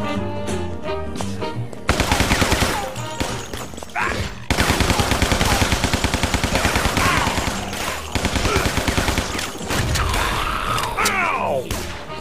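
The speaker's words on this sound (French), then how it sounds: "Ah, le fusil à pompe, ça marche bien." Pump-action shotgun blasts from a video game fire in rapid, loud, booming bursts over a busy backdrop of game effects and music.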